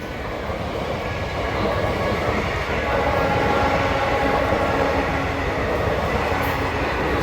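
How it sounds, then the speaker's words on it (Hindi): A train rumbles steadily past a closed level crossing in a small Rajasthan town during a Gangaur procession, a loud continuous roar of wheels and carriages close by, with crowd noise beneath. "ट्रेन आ गई है।"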